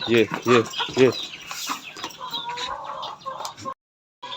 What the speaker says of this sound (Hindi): हमारी मुर्गियाँ सारी जो है ना आराम फरमा रही हैं। इधर मुर्गा बैठा हुआ है